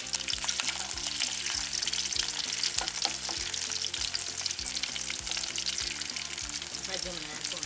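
Garlic fries in oil for a Jaffna-style drumstick curry with a dense, continuous sizzle while a voice speaks over it and a low droning tone runs underneath.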